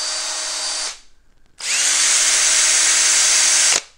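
A RIDGID cordless drill from a 2013 combo, running on an old, worn battery, whirs loudly and close in two bursts, about one second and then about two seconds long, with a short pause between.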